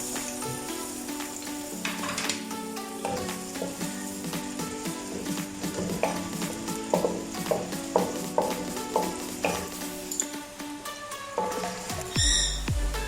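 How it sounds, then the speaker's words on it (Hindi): Onions sizzling and crackling in hot oil, with a spoon stirring and scraping the pan in irregular bursts, close up and with no talking. "प्याज को हमने सबसे पहले डालना है और इसको थोड़ा सा लाइट का ब्राउन करना है"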